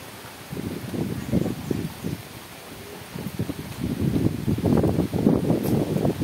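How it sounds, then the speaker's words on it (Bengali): Strong gusts of wind from Cyclone Remal rush through trees outdoors, heard as uneven, rising and falling bursts of rustling and buffeting that grow louder toward the end. "এত হাওয়া দিচ্ছে"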